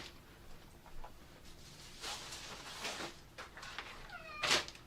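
A cat meows several times, short rising calls spread across the clip, ending in a louder, drawn-out meow up close in a quiet room.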